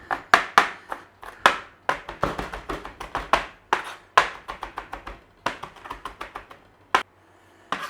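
A knife mincing coriander on a board makes a rapid run of sharp, close chopping taps in uneven bursts, with a brief pause near the end.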